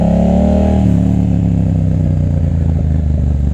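A 2021 Yamaha MT-07 motorcycle revs hard as it rides off, its loud, close engine roar rising and then settling into a steady throaty drone, with no voices.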